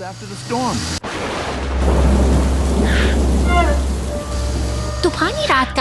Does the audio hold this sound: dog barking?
no